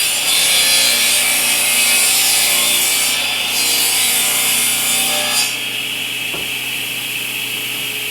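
Power tool cutting a rabbet along the edge of a wooden board for a door jamb, a loud continuous whining rasp of wood being removed that holds steady throughout, shifting slightly in tone partway through.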